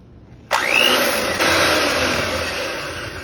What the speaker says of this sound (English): My hand mixer will mix these together.